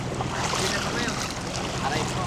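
A boat churns steadily through rough water, with splashing, engine rumble and wind noise blending into a constant rush; a faint voice may be present.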